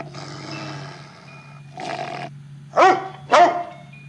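A puppy in the video game Amanda the Adventurer 3 gives a soft whine, then two sharp, close yips in quick succession over a low steady hum.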